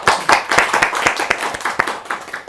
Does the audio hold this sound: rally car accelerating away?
no